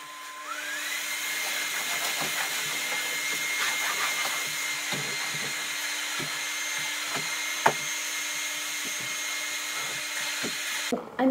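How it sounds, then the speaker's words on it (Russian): Household vacuum cleaner running at home, a loud steady motor whine with a constant drone throughout, punctuated by faint knocks and bumps, with no talking. "идем пылесосить"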